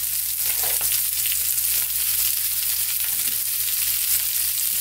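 Hairtail fish sizzling in an oiled pan over the lowest heat, a steady, close, gentle frying crackle that runs without a break and with no voices.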